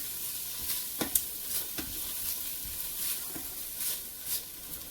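Ginger sizzles in hot coconut oil in a pan, with a steady frying hiss broken by several sharp stirring scrapes, close and alone.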